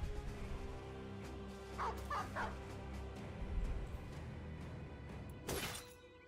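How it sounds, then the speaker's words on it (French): A dog in a video game barks in a few short bursts amid low game background sound, with a sharp, bright noise burst near the end. "On va lâcher le chien."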